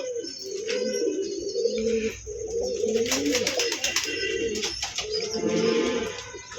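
A pair of pigeons coo close by in a low, continuous rolling rhythm, with occasional wing flutters and small chirps mixed in and no talk over it.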